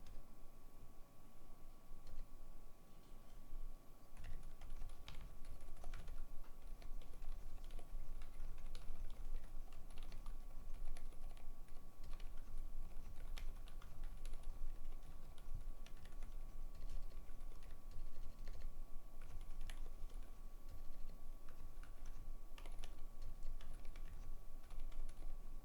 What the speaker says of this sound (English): I hope you can still hear the keyboards